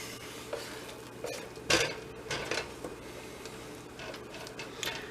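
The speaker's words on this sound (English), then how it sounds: "I like using the spatula just because it's easy to get all the egg together" A spatula scrapes and stirs egg around a non-stick pan while making chicken fried rice, producing soft, intermittent scuffing and light clinks, close but quiet, with one sharper knock in the middle.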